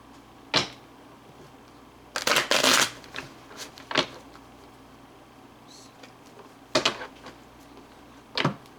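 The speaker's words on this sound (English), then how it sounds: "I just habitually feel like I have to shuffle them once or twice more" Tarot cards are shuffled by hand in several quick riffling bursts, a longer cluster in the middle and short snaps before and after, close to the microphone with quiet gaps between.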